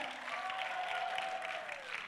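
Audience at a social enterprise talk applauding and cheering, a dense wash of clapping with a faint sustained whoop, moderately distant and continuous.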